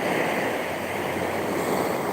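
Steady broadband wash of sea waves breaking on a sandy shore, continuous and fairly loud with no pauses, a faint wind rumble underneath and no voices.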